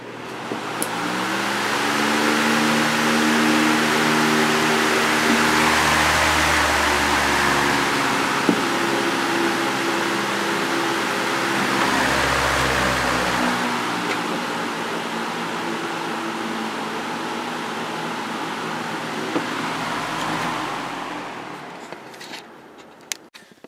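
A Lakewood HV18 fan with a 2.4 amp Macmillan motor runs on high, producing a steady, loud rushing whoosh of moving air over a low motor hum that holds throughout before winding down at the end, with no talk.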